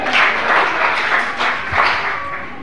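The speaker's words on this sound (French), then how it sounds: "On applaudit pour elle." Applause from an audience at a Cameroonian health forum, a dense, fairly loud wash of many hands clapping that swells and eases over a few seconds, with faint voices underneath.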